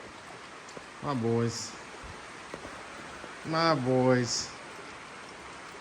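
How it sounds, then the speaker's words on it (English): Steady rain falls outdoors as a broad continuous hiss, with a voice speaking briefly over it twice. "All right, excuse the rain."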